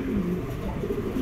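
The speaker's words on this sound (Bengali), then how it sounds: "হোয়াইট কালারের এর একটা নর কবুতর" A white male pigeon coos in a low, rolling murmur, close by and steady, with no voices over it.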